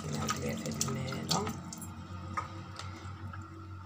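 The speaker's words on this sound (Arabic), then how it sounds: "المطيشة راه غسلتها نعاود ليها في هاد الماء هدا" Tomatoes are rinsed in a basin of water in a home kitchen, close splashing and sloshing with soft squishy handling that fades toward the end, alone without talk.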